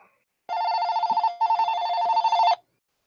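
A telephone rings in two long electronic trill bursts with a short gap between them, loud and close, with no talk over it.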